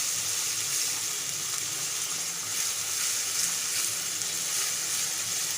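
Minced keema fries in a pan with coarsely ground green chili, ginger and garlic for keema kachori, giving a steady, even hiss and sizzle with no talking.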